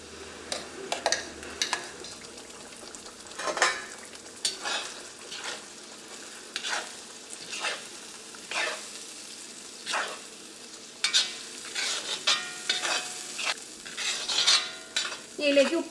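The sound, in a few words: ground cooked tomato paste stirred and frying in oil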